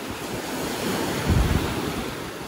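Sea waves breaking on the shore beside a pier at a Black Sea resort in chilly early spring, a steady surf roar with a swell rising midway, mixed with gusty wind buffeting the microphone.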